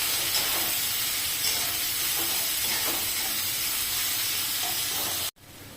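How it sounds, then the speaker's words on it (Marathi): Onions sautéing in a pan for a Mysore masala dosa filling give a steady, close frying sizzle and hiss that runs unbroken, then stops abruptly near the end; no one talks over it. "आता याच्यामध्ये आपल्याला कांदा टाकायचा आहे कांदा छान मऊ होऊ द्यायचा आहे"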